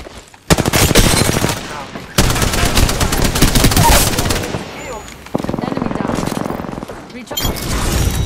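Rapid automatic gunfire from the Apex Legends battle royale, sustained bursts with short breaks across a late-match firefight, loud and close, with game effects and a player's voice talking underneath.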